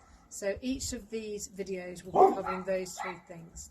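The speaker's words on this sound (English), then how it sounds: "Excuse my dog, he's barking in the garden." A dog barks out in a garden, distant and partly masked, while a person speaks calmly over it in the foreground.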